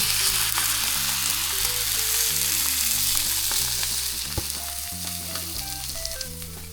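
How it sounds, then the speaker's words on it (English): Salmon fillet sizzles skin-down in a frying pan, a loud steady crackling hiss with a low tone underneath that holds close and continuous throughout, with no voices. "I'm putting it on this pan. Just want a crispy skin."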